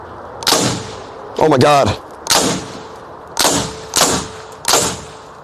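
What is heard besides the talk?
gunshots fired at a Tesla Cybertruck to test if bulletproof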